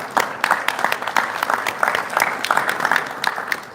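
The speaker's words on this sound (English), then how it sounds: "join me in giving a round of applause" An audience at a homebrew competition awards ceremony at a state fair applauds a winner with brisk, close clapping that starts almost at once and keeps an even, busy rhythm all the way through.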